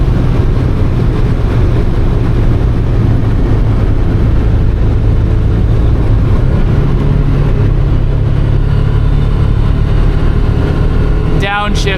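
A Lamborghini Huracan engine drones steadily and loudly from inside the cabin, its note staying dense and constant throughout, with a brief rising blip right at the end.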